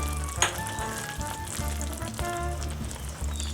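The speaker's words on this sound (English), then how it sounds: "Just going to stir that in." Baking powder is stirred into hot caramel that has just come off the heat, making a steady close sizzle and bubbling hiss with faint scraping of the spoon and occasional soft clinks, with no one talking.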